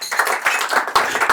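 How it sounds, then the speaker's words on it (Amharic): Audience applause at an evening awards gathering in a Sheraton hall in Addis Ababa, steady scattered clapping from many hands filling the whole stretch with no voices over it. "ለ3ኛ ዓመቴ ደግሞ ጭብጨባ ያስፈልገኛል።"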